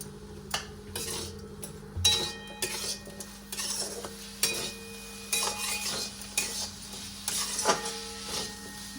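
Onion and tomato fried and stirred in a home kitchen pan for aloo posto, with a spoon scraping and clinking against the metal in repeated irregular strokes over a faint sizzle, close and alone.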